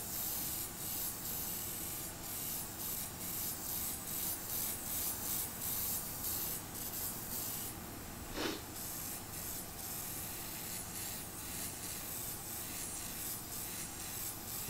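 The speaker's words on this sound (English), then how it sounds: "It's like my airbrush is working a little overtime to get this paint out." An airbrush spraying paint in light coats over the toe of Air Force 1 sneakers, a steady close hiss running continuously beneath faint rubbing noises.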